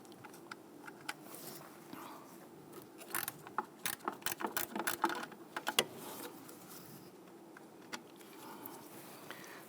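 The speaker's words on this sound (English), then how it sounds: "We're just going to use our gear wrench, loosen those, and remove these." A gear wrench ratchets to loosen two 10mm nuts on the intake manifold of a 2011-2021 Jeep Grand Cherokee 3.6L, giving quiet, close bursts of rapid metallic clicks that cluster in the middle of the clip, with no talking.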